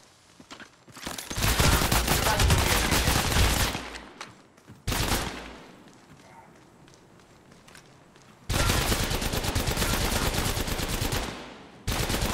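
Rapid automatic gunfire from the mobile battle royale game Apex Legends Mobile, loud sustained bursts separated by a short quieter gap, with a single sharp shot between them and no talk.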